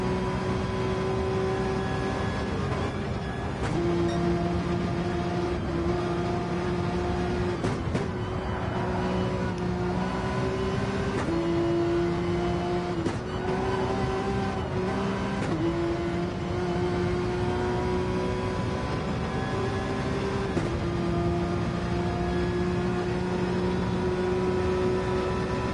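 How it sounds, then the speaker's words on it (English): Onboard engine note of a Porsche GT-class race car in a racing game, lapping Le Mans through the Porsche curves: a steady, loud high-revving drone that rises and falls with upshifts and downshifts, with brief gear-change breaks. "let's have a look at the onboard of our only Porsche in the GT category as they go through the Porsche curves"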